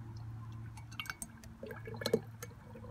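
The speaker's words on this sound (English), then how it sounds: "we'll give a little pour into there" Liquid trickles and splashes into a container in short, quiet bursts, with faint glassy clinks close by.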